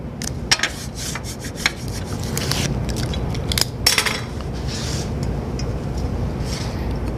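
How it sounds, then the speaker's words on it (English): Double-sided tape pulled and pressed onto the face of a table saw throat plate, a series of scratchy tearing and rubbing bursts with a few small clicks over a steady low background hum, close by and without talk. "let's take our existing throat plate out and apply a little double stick tape to the face of this"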